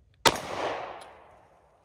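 A Tisas 1911 Carry B9R pistol fires one sharp, loud shot at small steel plates outdoors; the report decays over about a second, followed by a faint distant ring.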